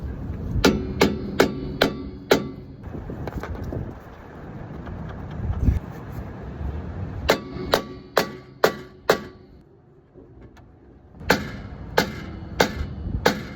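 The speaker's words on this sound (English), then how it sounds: "I'll give it a couple of whacks with this" A hammer strikes a rusted rear brake rotor on a Lexus IS over and over to knock it loose, in loud metallic bursts of four to six rapid blows separated by pauses, with wind noise throughout.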